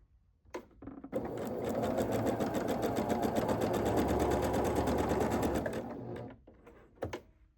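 Sewing machine stitching quilt block pieces in one continuous rapid run of about five seconds, close and steady, framed by brief handling noises before and after.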